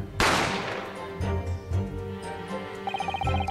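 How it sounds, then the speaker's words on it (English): A single sharp gunshot cracks out loudly from the Great Ace Attorney game, its bright burst fading over a moment, with game music and softer effects continuing underneath. "You heard the gunshot, you mean?"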